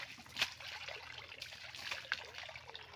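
Water trickles and pours steadily over a cow being washed in a village setting, a continuous close splashing stream with a few sharper drips and splashes.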